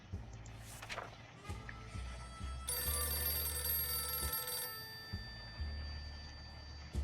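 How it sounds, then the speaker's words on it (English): A telephone rings in the video game 60 Seconds! Reatomized: a bright, sustained electronic ring lasting about two seconds mid-clip, clear over low game ambience. "There's a phone ringing"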